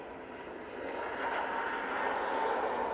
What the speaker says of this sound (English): that A320 Neo is off to Murcia